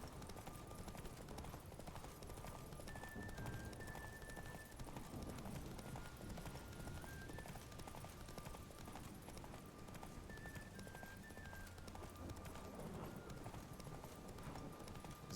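Roach the horse galloping in a Witcher 3 race, a steady continuous clip-clop of hooves with an occasional whinny, layered under game music and ambient effects throughout.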